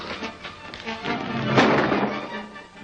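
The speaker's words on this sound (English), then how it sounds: "Those shots will bring the cops." Gunshots in a 1943 adventure serial: a sharp burst stands out midway through, over busy noise, with no speech.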